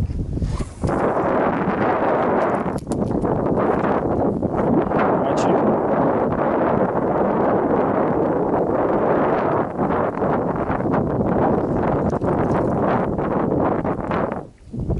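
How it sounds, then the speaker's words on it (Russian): Strong wind blows steadily into the microphone while fishing on the Volga River in September, a continuous loud roar with gusty rustling that barely lets up for the whole stretch. "Ветер, блин, успокойся."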